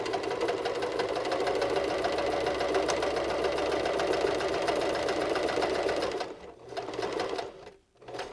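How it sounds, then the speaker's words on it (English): A sewing machine runs steadily, stitching close to the edge around a pleated fabric face mask, with a continuous close buzz that stops briefly near the end before restarting. "going to sew completely around the face mask, and we'll sew down those pleats that we made, and we're going to actually make 2 passes around"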